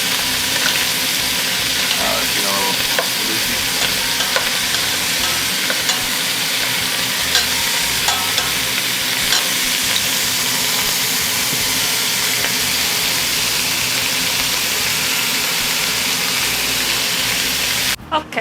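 Rouladen, rolled beef meat rolls, frying in a pan, giving a continuous loud sizzle with occasional crackles and pops that runs steadily for the whole stretch.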